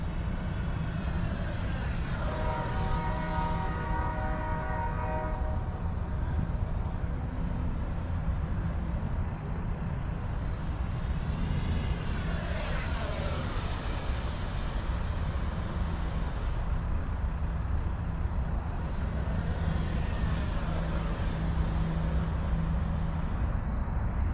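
An FMS F-18 Hornet model jet with a 64mm electric ducted fan warms up with a loud, steady, close whine whose pitch rises and falls in stages over a broad roar.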